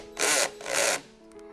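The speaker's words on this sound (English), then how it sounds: "I'm gonna take off the inspection plate to make sure that" Two short bursts of a small power driver whir up close while screws are backed out of an aircraft inspection plate, followed by a faint pair of clicks.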